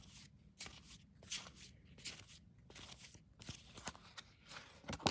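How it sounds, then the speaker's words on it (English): Tarot cards being shuffled by hand in quiet, repeated bursts of soft riffling and slapping, close up with no talking. "Let's shuffle and we'll draw a card for your home life."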